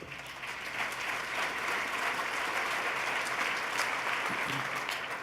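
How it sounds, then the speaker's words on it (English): Audience applause at the 2014 New York State of the State address, a dense, steady wash of clapping from a large crowd filling the hall, sustained for several seconds with no talk over it. "you should applaud for that"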